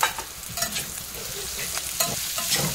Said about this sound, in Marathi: हे बघा चांगले परतून घ्यायचे असे